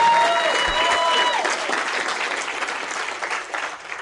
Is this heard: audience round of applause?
yes